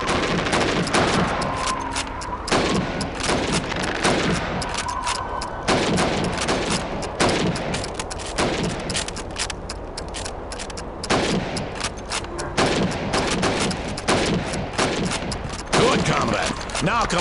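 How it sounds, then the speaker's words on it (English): Rifle fire at helmet targets in the Call of Duty 2 video game, loud repeated gunshots throughout with game effects and voices mixed in. "You have 15 seconds to shoot the helmets"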